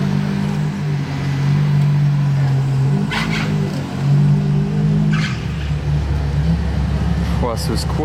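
Ferrari supercars rev and pull away on a street, with a deep engine drone building and fading, some louder bursts and brief tyre noise, and voices talking over it.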